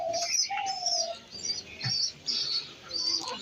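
A pair of white pigeons coo softly up close, with a few low murmuring notes among brighter chirps from other birds, all fairly faint and unhurried.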